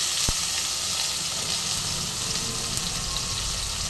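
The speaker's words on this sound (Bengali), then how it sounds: "একটু টমেটোটা ভেজে নেবো" Chopped tomato frying in hot oil over tempered spices, a steady close sizzle throughout with a faint stir, no talking.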